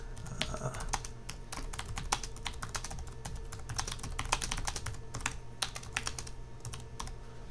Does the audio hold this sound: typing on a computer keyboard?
yes